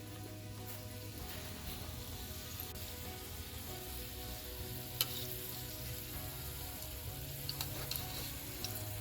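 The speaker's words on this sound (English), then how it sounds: "It's important to fry your samosas in very low heat" Samosas deep fry in oil on low heat, giving a steady, gentle sizzle with soft crackles and occasional sharper pops, close and continuous without talk.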